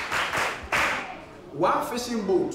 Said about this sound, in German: Nochmals Applaus für sie.